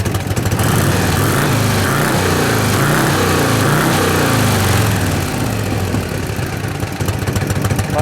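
A 1978 Harley-Davidson FLH motorcycle with wrapped exhaust pipes idles nearby in a loud, continuous, rumbling throb that stays even throughout.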